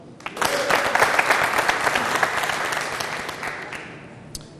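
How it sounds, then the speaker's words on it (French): A live audience at a youth debate contest applauds the jury members, a dense wash of many hands clapping that swells quickly, holds steady and fades toward the end. "on les applaudit"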